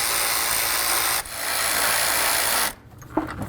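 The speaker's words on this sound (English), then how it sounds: "remove your 8mm bolts that hold the fan shroud to the radiator" A power tool whirs steadily while removing the 8mm fan shroud bolts from a 2005-14 Ford Mustang radiator, a loud close buzz that pauses briefly, resumes, then cuts off into a few clanks.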